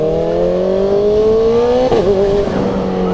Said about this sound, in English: I'm pulling the throttle, but the bike kind of stutters. But then when I rev up, it doesn't have that problem